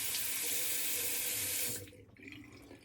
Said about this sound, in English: Some warm water on there, warm up that blade.